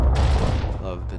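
A Gnasher shotgun blasts in Gears of War, one loud booming shot followed by a rumbling tail of gunfire, with a voice talking over it.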